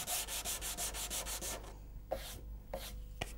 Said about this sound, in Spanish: Matar el canto con la cuchilla y la lija.